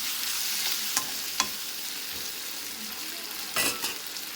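Garlic sautés in a pan for chicken gravy with a steady, moderate sizzle, broken by a few light scrapes and stirs of a utensil against the pan.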